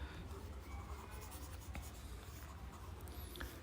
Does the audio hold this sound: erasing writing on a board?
yes